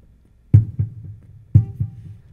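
Two hand strikes on an acoustic guitar, each followed about a quarter second later by a softer slapback repeat from a tape delay, close and unaccompanied.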